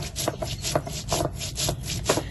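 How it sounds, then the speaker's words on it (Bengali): Cumin seeds are ground into a paste on a grinding stone, a close rhythmic rasping as the stone rubs back and forth in steady repeated strokes, with no talk. "একটু জিরে বেটে নেবো"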